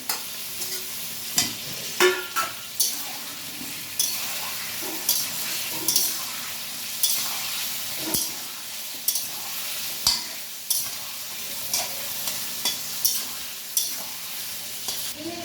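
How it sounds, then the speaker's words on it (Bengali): Potatoes and onions frying with a steady sizzle, repeated scraping and stirring clicks from a spatula in a pan, close by, no talking. "আলু পেঁয়াজ আর আলুটা একসাথে ভাজা ভাজা হবে"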